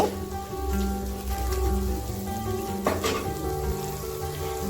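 Ginger, chili and turmeric powder fry in oil for a potato and paneer curry, giving a steady, moderately loud sizzle with occasional soft stirring scrapes near the end.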